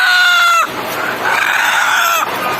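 A hen that does not lay eggs gives two drawn-out, tonal calls, close and fairly loud, with a short break between them and a noisy rustle underneath.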